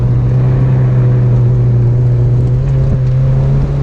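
A stock Mazda Miata's engine drones loudly on a track going uphill, with a low, constant hum and slight throttle variation as the throttle is feathered, close and sustained, no speech.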